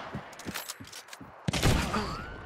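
Gunfire in Hunt: Showdown: a string of sharp, evenly spaced shots in the first half, followed by a louder, heavier blast with a long ringing tail.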